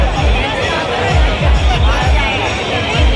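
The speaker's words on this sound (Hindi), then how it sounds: "तो VIP वाला भी इतना भीड़ है।" A dense, noisy crowd packs the VIP entry of a Ganesh pandal in Bhilai, with loud overlapping chatter and babble filling the space continuously, mixed with rhythmic low thumps in the background.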